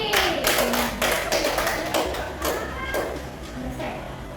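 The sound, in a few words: classroom applause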